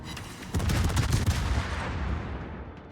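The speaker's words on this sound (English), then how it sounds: "Trying to help out our divmate in the gearing as much as we can with a rapid fire HE salvos here." Cruiser guns fire rapid high-explosive salvos in the World of Warships naval battle game, a dense rumbling burst of booming shots that swells and then fades in a long decaying roar, heard without talk.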